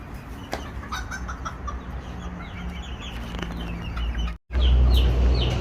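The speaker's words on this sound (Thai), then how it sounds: "อันนี้จะเป็นข้อของไก่ บาม่า ไก่ชักเชคแล้วก็พวกคุณแม่ไข่เขียวนะคะ" Brahma, Checker and green-egg-laying hens on a farm give soft, scattered clucks and short calls from a pen, with a brief flutter of wings, under a steady outdoor background hum.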